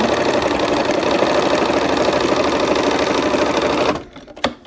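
A sewing machine runs a steady quarter-inch seam on a Peppermint Frost quilt block, a fast, even, buzzing rattle close by that stops abruptly near the end, followed by a couple of light clicks.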